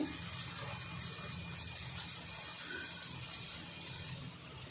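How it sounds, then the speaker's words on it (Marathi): Steady water pouring into a pan of moong dal, a continuous close splashing stream running throughout with no voices. "डाळ शिजण्यासाठी फक्त थोडंसं पाणी टाकायचं"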